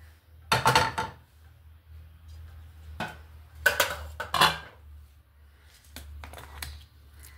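A frying pan is set on a stove in a home kitchen while dondakaya curry is being made, giving a few sharp metal clanks and clatters in separate bursts with quiet gaps between, close by and without talk.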